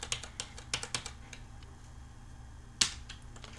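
Sparse clicks of keys pressed on a computer keyboard's number pad, a quick cluster of taps at first, then scattered single presses with one sharper click later, close and quiet over a faint hum.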